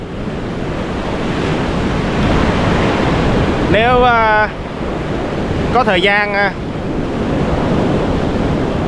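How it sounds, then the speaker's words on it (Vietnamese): Rough Atlantic Ocean surf and strong wind on a beach, a loud continuous roar of breaking waves with wind rumble on the microphone, while someone speaks briefly twice over it. "Cái biển này rất là siết, họ cấm."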